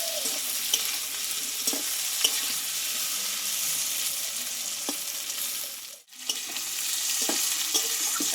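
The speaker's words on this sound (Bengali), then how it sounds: "এই পটলটা কিন্তু ভালোভাবে এখনো ভেজে নিতে হবে অবশ্যই" Sliced pointed gourd (potol) fries in plenty of oil in a pan, a constant bright sizzle with occasional clinks and scrapes of stirring, close and moderately loud, briefly dipping before resuming.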